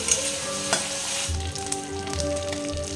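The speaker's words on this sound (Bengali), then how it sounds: "দেখুন চিংড়ি মাছ আর মাছের কাঁটা ভাজা হয়ে গেছে" Shrimp and fish bones frying in oil in a pan, a steady close sizzle with occasional stirring scrapes and soft clinks and no one talking.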